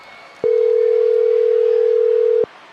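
A single steady telephone tone in the WWE 2K24 wrestling video game sounds loud and clean for about two seconds, starting and stopping abruptly over quiet background.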